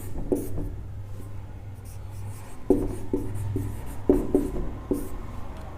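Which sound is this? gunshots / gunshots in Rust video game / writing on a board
writing on a board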